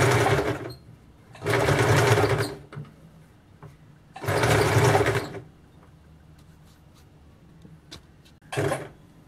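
An electric sewing machine runs in three steady bursts of stitching around a blouse neckline, each lasting about a second or more, with a short final run and quiet pauses between.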